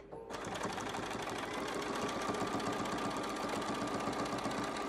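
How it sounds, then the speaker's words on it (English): A sewing machine runs steadily for several seconds, stitching down the binding along the side of a fabric mask with a fast, even mechanical whir and rapid needle clatter, close and continuous. "And now I will stitch down the side."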